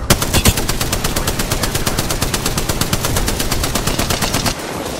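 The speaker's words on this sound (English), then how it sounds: "I am taking fire, friends." Gunfire in the video game Apex Legends: a rapid automatic weapon fires a long, steady stream of evenly spaced shots, loud and close, stopping abruptly near the end.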